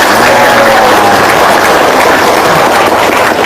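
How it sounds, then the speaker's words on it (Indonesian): An audience at an Islamic religious talk gives a loud round of applause, a thick, unbroken wash of clapping that holds steady from start to finish. "Tepuk tangan dulu dong."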